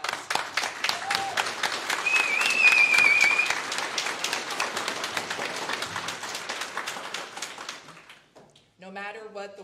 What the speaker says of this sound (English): So I want to pause and give you guys a round of applause.